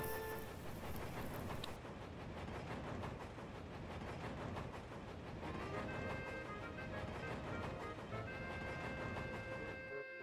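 Steam locomotive hauling a train along rails, a continuous steady rumble with rhythmic clatter and hissing, loud and close throughout with no voices.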